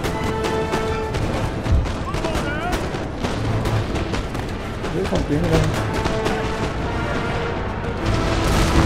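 Cannon fire in the video game Napoleon: Total War, a dense, continuous roar of booming artillery and gunfire throughout, with someone talking over the battle.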